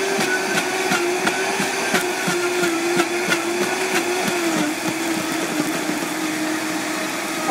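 A kitchen blender purrs at a steady high speed as it purees cooked apples with cinnamon and liquid into warm applesauce, a continuous close motor whir with a slight wobble and no talk.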